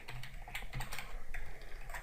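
Soft, rapid keystrokes on a computer keyboard while typing code, a quiet close-up patter of clicks with uneven spacing and no voices.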